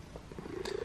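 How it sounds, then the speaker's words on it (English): A cat purring softly up close, a faint rhythmic low rumble with a brief higher tone near the end, quiet and alone. "And you're purring."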